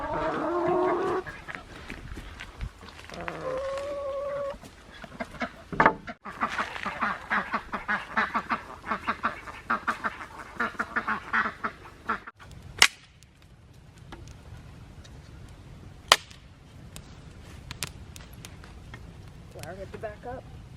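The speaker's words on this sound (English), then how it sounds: "I'm going to let the birds free range tonight." Free-ranging ducks on an off-grid homestead quack repeatedly in an irregular chattering stream, close and fairly loud, with sharp knocks and a person speaking at times; the calls thin out toward the end.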